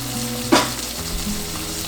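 Chicken livers frying fast in a hot pan, a loud steady sizzle with one brief burst of spattering near the start, nobody speaking.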